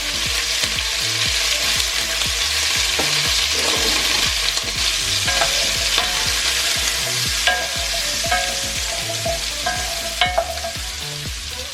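Potatoes tossed in oil with garlic powder and salt sizzle loudly and steadily in a hot pan. Rhythmic stirring scrapes and knocks run throughout, with occasional sharper clinks near the end and no talking.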